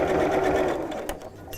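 A sewing machine runs steadily, stitching a seam on a fabric storage pouch, a continuous close whirring hum that eases slightly toward the end.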